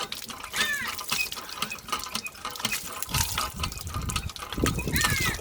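Water gushes from a tubewell in a continuous splashing stream, close and fairly loud, with intermittent surges and clatter.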